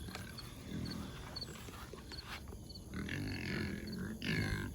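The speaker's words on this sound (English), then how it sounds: "Pigs, sheep." Pigs and sheep on a farm, with grunting and scattered animal calls over a steady outdoor background of rustling and movement, fairly close and continuous.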